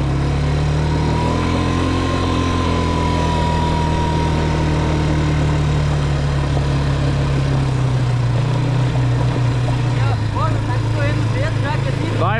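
A quad bike engine spinning a donut, a continuous close drone that shifts pitch as it turns, with voices talking over it throughout.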